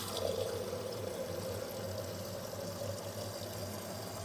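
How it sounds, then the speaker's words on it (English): Water poured into a pot of cooking beans, a steady continuous splashing pour under a low hum, fairly quiet and unbroken, with no talk over it. "I'm adding water to the beans because if you don't,"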